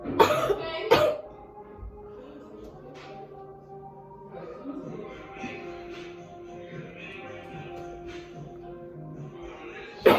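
Two sharp coughs open the scene, then a quiet stretch of faint background murmur, with another harsh cough at the very end.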